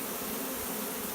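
A honeybee swarm moving into a hive, a dense, steady, continuous buzz of many bees close by, filling the scene without any talk.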